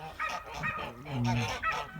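Repeated nasal honks from a Kholmogory gander, several calls in a row, fairly close, with faint background noise between them.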